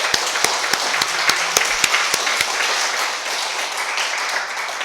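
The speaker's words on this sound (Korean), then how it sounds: "우리 기쁨의 박수를 함께 나눌까요?" A church congregation applauding together during a Sunday service, a warm wash of clapping with a few crisp, distinct claps standing out near the front, fading slightly toward the end.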